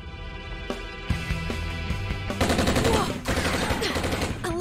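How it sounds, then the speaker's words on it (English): Gunfire crackles at a live fire exercise range set up like a soundstage, with sharp bursts and rapid volleys that grow denser and louder partway through. "A live fire exercise?"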